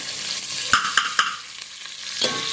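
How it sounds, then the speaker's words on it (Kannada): Chicken masala gravy frying in a pan, a steady sizzle with three quick spoon scrapes close together and a later one, near and moderately loud. "ಇದನ್ನು ಚೆನ್ನಾಗಿ ಫ್ರೈ ಮಾಡುವ"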